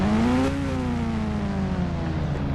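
A motor vehicle engine in the Indian Bike Driving 3D game hums steadily, its pitch rising briefly and then holding a smooth, continuous drone.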